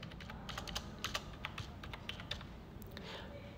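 Keys clatter on a computer keyboard as a bank account number is entered into an income tax portal form, quick irregular clicks in short bursts, close and fairly quiet, with no talking.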